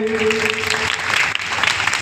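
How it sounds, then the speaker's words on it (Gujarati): An audience at a religious Bhagavat katha gathering breaks into scattered, dense clapping that continues throughout, with a voice speaking briefly at the start. "તો પુનઃ એકવાર જોરદાર તાળીઓથી વધાવી લઈએ"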